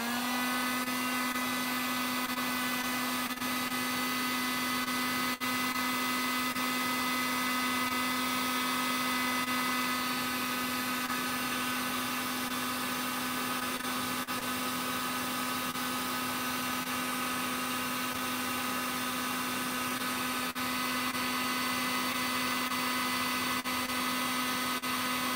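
A hot-air rework tool heating a flight controller circuit board to desolder a USB power diode gives a steady, loud blowing whir with a constant motor hum throughout, with no talking.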